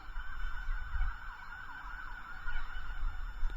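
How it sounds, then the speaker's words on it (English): An emergency siren wails steadily in the distance over low traffic rumble, its rising and falling tone sweeping continuously and never quite getting close. "Oh, where is that siren, man?"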